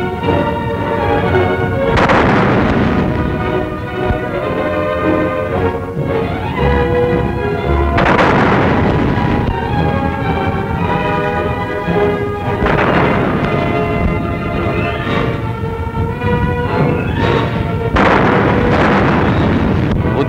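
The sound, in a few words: artillery gun salute in Moscow, 1944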